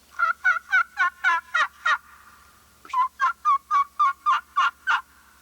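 A slate turkey call imitating the kee-kee run of a young wild turkey, two sets of sharp, clear, evenly spaced whistled yelps, about seven then eight notes, close and loud with a short pause between sets.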